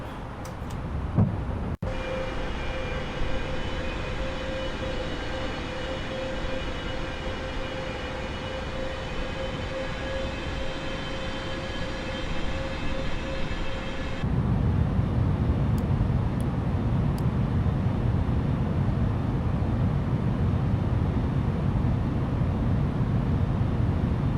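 A Frontier Airlines airliner on final approach to runway 26 with a steady loud whine and a sustained tone, then a rougher, heavier rumble as the jet touches down and rolls out.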